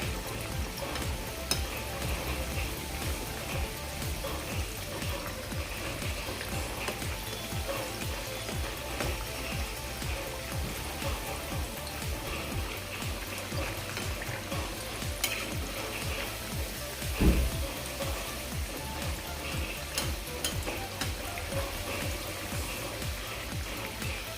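Bread-crumb-coated potato cubes deep frying in oil, a dense, even bubbling sizzle that holds steady throughout with one brief clink, and nobody speaking.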